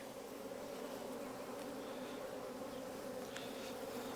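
Honey bees buzzing around an open beehive with nectar-filled frames during a hive check, a dense, continuous hum that stays steady and close throughout with no talking.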